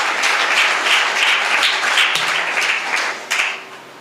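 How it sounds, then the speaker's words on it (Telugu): A church audience applauding together during a Telugu Christian sermon, a dense, loud wash of clapping that holds steady and then tapers off. "చప్పట్లు కొట్టండి అందరూ."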